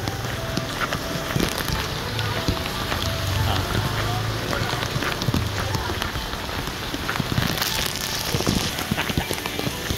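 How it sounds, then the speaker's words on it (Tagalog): Heavy rain pours down on a flooded street in Silang, Cavite, a dense, loud, constant wash of water with splashing close by and muffled voices mixed into the downpour. "Lakas lang ulan guys oh."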